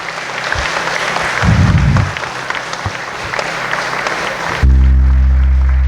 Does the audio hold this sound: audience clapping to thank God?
yes